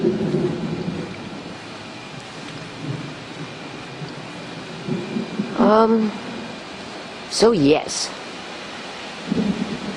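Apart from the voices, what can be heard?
thunderstorm with rain and thunder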